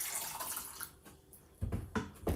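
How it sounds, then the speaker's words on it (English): A glass is filled with water, with an airy running hiss followed by a few louder splashy gulps and bursts as the pour continues. "So I'm gonna pour myself a glass of water"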